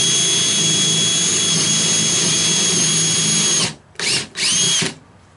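A power drill whines loudly and steadily as it bores through wood for a porch swing, then stops and gives two short bursts before falling quiet.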